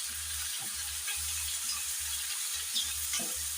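Tomatoes frying in a pan while cooking chicken gizzards, a steady close sizzle with a pulsing low bubbling underneath, no voices.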